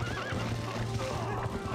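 Horse in The Legend of Zelda: Twilight Princess neighing with a rising whinny over steady clip-clopping hooves, close and fairly loud.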